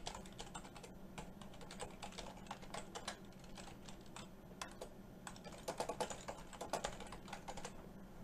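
Typing code on a computer keyboard, with quick, uneven key clicks close to the mic, faint and steady with short bursts, and no talk.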